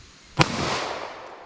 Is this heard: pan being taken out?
no